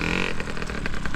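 A motocross bike engine revs hard and close, a loud continuous buzzing roar with pitch swells rising and falling, no talk over it.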